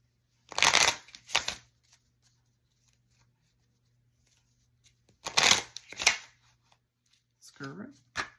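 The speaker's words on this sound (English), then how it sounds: "We'll pull a couple ancestral and spirit guide message cards." Spirit guide and ancestral message cards shuffled by hand in two brief bursts separated by a quiet pause, followed by a few lighter card flicks near the end; no talking over them.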